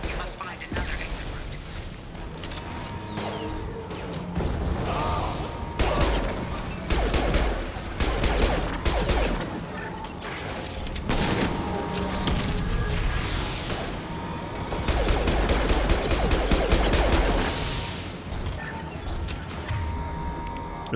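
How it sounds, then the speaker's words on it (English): Heavy gunfire from a big gun in Mass Effect 2 cracks out in repeated loud bursts and volleys, with mechanical clanks and creaks between them, under a busy game mix with some voices. "Let's just shoot this dude with a big gun."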